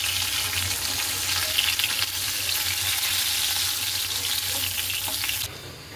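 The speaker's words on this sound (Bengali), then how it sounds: "মাছ ভাজা প্রায় হয়ে এসছে" Fish frying in hot oil, a loud, dense, continuous sizzle that holds steady and drops off sharply near the end.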